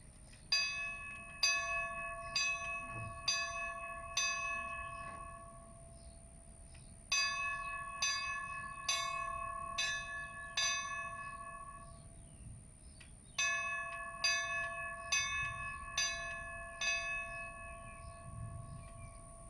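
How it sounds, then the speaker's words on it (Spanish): Firefighters' memorial farewell bell rung in three spaced series of clear, ringing strikes, each series several evenly paced tolls that sustain and fade, with quiet outdoor ambience between. "Hoy tocamos esas campanadas como despedida a los instructores fallecidos."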